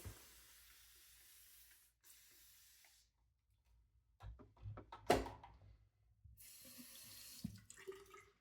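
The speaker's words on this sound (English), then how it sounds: "let me give this a little spray down real quick" Short bursts of spraying liquid onto skin before a shave, a hiss of mist with brief pauses between squirts, followed by some handling noises and a final spray.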